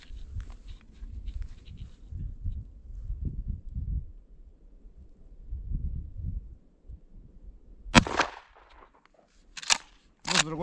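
Rifle shots ring out outdoors from a tripod on soft, unstable ground, a loud sharp crack near the end followed by a couple more sharp bangs, after a stretch of low rumbling handling noise.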